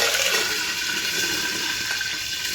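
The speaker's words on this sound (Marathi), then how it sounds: "आता आपण घालायचं ह्यामध्ये कढीपत्ता." Curry leaves hit hot oil for a tangy lentil amti, a steady loud hissing sizzle that fills the whole stretch without a break, close and continuous with no voices.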